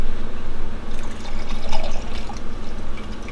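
Hot water poured from a measuring cup into a pot of thick Conecuh sausage chili, a steady close liquid splash and trickle running for a few seconds with no talking.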